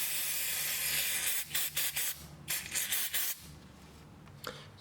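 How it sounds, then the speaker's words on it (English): Rust inhibitor is sprayed from an aerosol can onto a new ball joint on a 2013–2019 Nissan Sentra, a close steady hiss followed by several short, choppy bursts. "So I'm just going to use some rust inhibitor."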